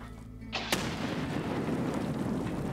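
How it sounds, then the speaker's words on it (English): A grenade blast in the shooter Escape From Tarkov, one sudden loud boom followed by a long, heavy rumbling roar that fills the rest of the clip. "he's just throwing grenades at me right now."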